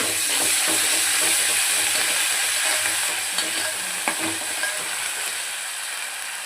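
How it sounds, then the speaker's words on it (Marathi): Onion sizzling steadily in hot oil as ginger-garlic paste is added, a loud, continuous frying hiss with faint stirring scrapes, no voices. "कांदा झालेला आहे यात आता मी अद्रक लसूण पेस्ट टाकते"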